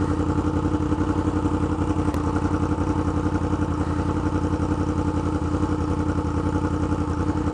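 A 2016 Yamaha R1 engine drones steadily and loudly while riding, a dense continuous roar with rapid clattering pulses and wind noise underneath, unbroken for several seconds.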